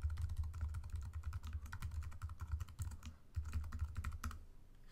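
Steady, quiet typing on a computer keyboard, keys tapped in a continuous uneven rhythm with no talking.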